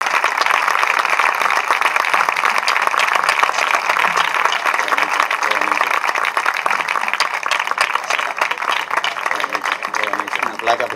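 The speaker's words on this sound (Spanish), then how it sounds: "Este aplauso para todas las madres que tienen un hijo con discapacidad." An audience at a poetry recital breaks into long, dense applause, with a thick and even crackle of many hands that keeps going without pause.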